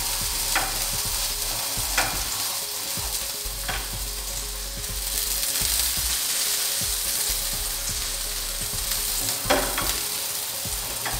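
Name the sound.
food frying in oil in a pan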